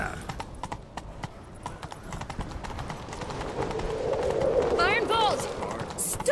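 Horse hooves gallop in rapid clip-clop rhythm in The Witcher III: Wild Hunt, steady and mid-distance throughout, with a rider's shout and a brief whinny near the end.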